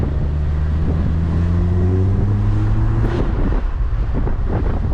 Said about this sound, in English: The exhaust, you can hear, this exhaust sounds so good.